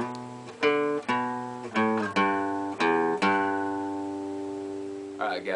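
Acoustic guitar run from a song picked out slowly, several distinct plucked notes and sustained chords ringing out close and clear, with a brief voice creeping in at the very end.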